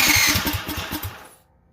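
A Duromax 440cc engine on choke pulls over in a quick run of rhythmic chugging strokes, loud and close, then dies away into silence.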